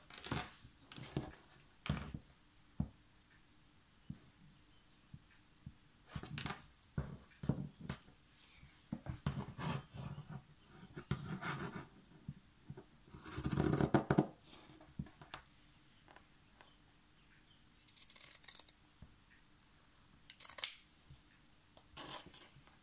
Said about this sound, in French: Ensuite, on va couper sur les petits pointillés.